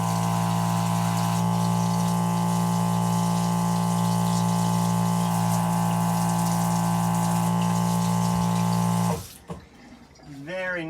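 A small water pump in a van galley plumbing system, fed from jerry cans, hums loudly and steadily at close range, then stops near the end, followed by quiet room sound.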